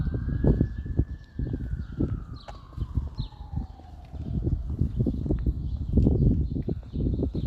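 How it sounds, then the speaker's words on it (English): A police siren on a city street in Toronto's east end sweeps slowly downward in pitch as it passes, moderately distant, under busy street noise with footsteps and clatter. "there were sirens just a second ago"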